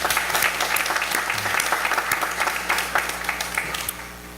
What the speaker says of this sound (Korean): 우리 다시 한번 격려의 박수 부탁드립니다